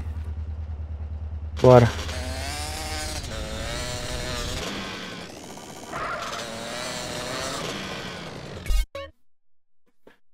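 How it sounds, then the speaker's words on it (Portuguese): Motorcycle engine in the game GTA San Andreas drones steadily for several seconds, revving and shifting pitch, with someone talking over it before it cuts off abruptly near the end. "Essa moto é ruim demais"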